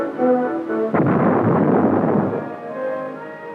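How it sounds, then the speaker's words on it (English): Artillery projectile fired at the weld of an armor plate at a proving ground, a single heavy boom followed by a broad rumbling roar that slowly fades, with a low musical tone underneath. "artillery projectiles are fired directly at the weld on each plate"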